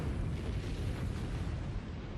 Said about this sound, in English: When the weapon detonates, an enormous amount of energy is released in a very short period of time.